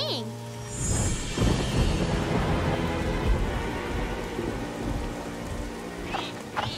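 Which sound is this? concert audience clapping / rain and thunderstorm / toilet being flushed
rain and thunderstorm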